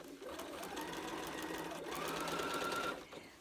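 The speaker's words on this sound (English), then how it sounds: "I'm not sewing over the pins because I've had them break and shoot in my eye before" Sewing machine stitching curved quilt pieces for inset quarter circles, a steady close mechanical whir and needle chatter running continuously, briefly easing in pitch midway and stopping near the end.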